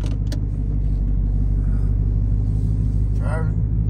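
A Jeep Trackhawk, bagged and supercharged, cruises with a loud, steady low engine rumble heard from inside, with a brief voice near the end.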